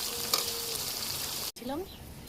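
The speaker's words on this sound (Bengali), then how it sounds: "আগে থেকে চিকেনটা ভেজে রেখেছিলাম, এইবার দিয়ে দেবো কষার জন্য" Pre-fried chicken sizzles quietly with spices in a pan for chicken biryani, a soft steady crackle with a brief break partway through.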